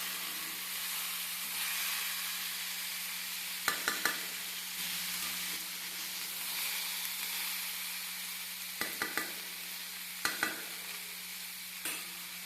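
Mixed vegetables for paneer navaratna frying in a pan, a soft continuous sizzle with a low steady hum beneath and a few brief clusters of clatter from stirring, quiet and close.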